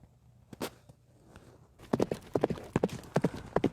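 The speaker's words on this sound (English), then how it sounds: "Gyro Zappelli's horse will begin to tire soon" Horse hooves clip-clop at a galloping pace during a long-distance horse race stage, with a faint hoof or two early, then dense rhythmic pounding beats that grow loud and close for the second half.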